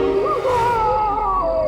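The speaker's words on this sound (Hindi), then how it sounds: "एक आत्मा की चीख है।" Wailing, howl-like ghostly scream from a horror show, a single drawn-out eerie cry with wavering pitch over a low rumbling background, loud and close.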